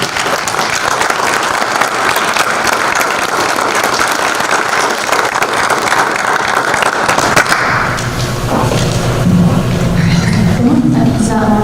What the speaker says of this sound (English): join me in a round of applause and welcoming first our elementary teacher of the year